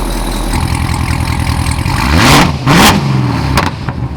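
A modified Corvette ZR1 with stock mufflers idles with a deep, loud rumble close by, then is revved twice in sharp surges that rise and fall before it settles back to idle.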